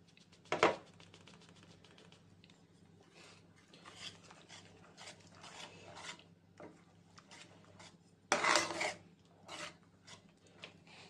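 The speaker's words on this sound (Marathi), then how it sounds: "आपण आपली काजू आणि मिल्क पावडरची जे मिक्सचर केलेलं आहे ते आपण आता हळूहळू घालून ते मिक्स करू" A spoon stirs a cashew and milk powder mixture into hot milk for sugar-free kaju katli, giving soft, faint scraping and rubbing with two louder rasping scrapes.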